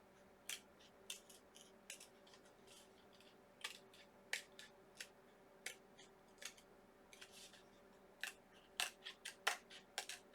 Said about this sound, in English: insert my scissors, and then cut around the inside